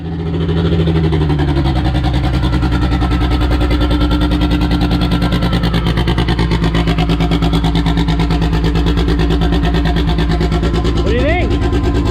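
Honda Civic engine running on a dyno, a loud, steady droning rumble that rises slightly early on and holds continuously throughout, with voices talking faintly in the background.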